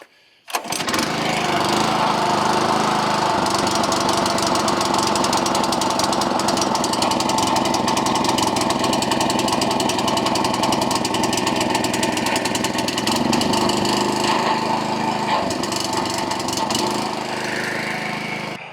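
A small walk-behind lawn mower engine runs steadily and loudly up close on a small residential yard, a continuous droning putter that stays level from start to finish with no talking.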